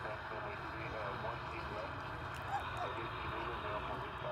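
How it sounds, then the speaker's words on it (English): Boeing 787 Dreamliner arriving at Dallas/Fort Worth Airport, a faint, steady jet rumble and whine in the distance, with a voice talking over it. "A 5-year-old Dreamliner,"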